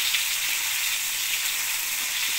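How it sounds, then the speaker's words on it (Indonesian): Shallots soaked in salt water fry in hot oil with a steady, close hiss of sizzling bubbles that runs evenly throughout, with no voices. "kita panaskan minyak, lalu kita masukkan bawang merah yang sudah direndam air sama garam."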